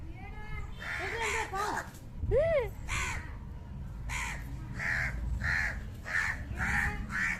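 Several crows caw loudly and repeatedly while mobbing a young cobra, their harsh calls coming in bursts close by, with voices talking underneath.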